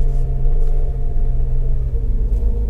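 A Toyota Rush engine drones loud and low while climbing a steep hill in L gear with an automatic transmission, a steady rumbling strain with slight wavering and no voices.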